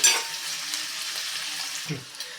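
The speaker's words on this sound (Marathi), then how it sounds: "कांदा छानपैकी परतून घ्यायचा आहे गॅस मी मीडियम आचेवरच ठेवलेला आहे" Onion sautéing in a pan over medium heat, a soft sizzle with a brief scraping stir near the end, short and fairly quiet.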